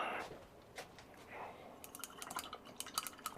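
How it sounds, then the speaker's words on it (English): A paint brush is rinsed in a water pot, with quiet splashes and drips followed by a flurry of small, quick clinking and tapping sounds against the container, all faint and close. "As soon as you're finished, put your brush in the water and clean it."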